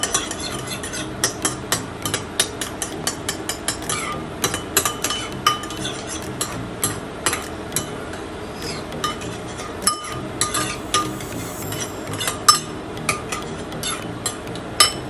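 A spoon stirs squeezed lime juice in a bowl, giving a steady series of light clinks and scrapes against the bowl, close and clear with no talking.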